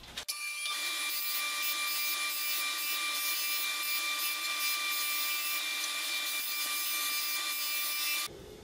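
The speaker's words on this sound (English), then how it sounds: "So I have my board sander set to around 82 thousandths right now." A board sander smooths thin wood guitar binding strips, a steady loud grinding whir with a high tonal whine running continuously from a sharp start to an abrupt stop near the end, with no voices.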